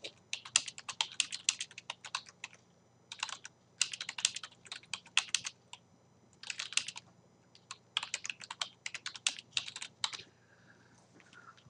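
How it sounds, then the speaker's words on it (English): Bursts of fast typing on a computer keyboard while entering text into a chat room, clicking keys in several clusters separated by short pauses, close and clear with no talking. "I type here"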